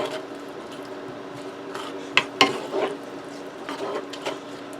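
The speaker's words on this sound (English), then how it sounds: "I'm just stirring it around, quick, breaking up the clumps of sugar" A spoon stirs brown sugar in a pot over low heat to break up clumps, giving soft scraping and clinking strokes with a few sharper knocks against the pot, close and fairly quiet with no talk.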